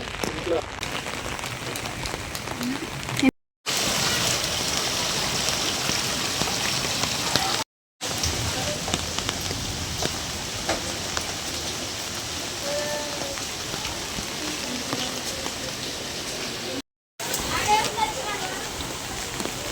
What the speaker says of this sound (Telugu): ఈరోజు వర్షం చూడండి ఎంత బాగా పడుతుందో